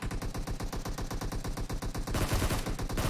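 Rapid automatic gunfire from the mobile shooter game PUBG Mobile rattles in a steady, dense stream of shots for about three seconds, loud and continuous with no talk over it.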